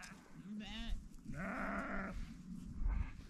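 Ewe bleating on a Xinjiang mountainside as she leads two lambs home. Two close, wavering bleats sound one after another over low outdoor background noise, and a person talks briefly near the end.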